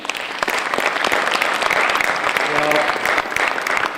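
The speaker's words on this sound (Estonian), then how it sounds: "Teeme ühe korraga aplausi." A conference audience at the Estonian road administration's annual meeting applauds its panel discussion speakers with dense, steady clapping that stays loud and full from start to finish.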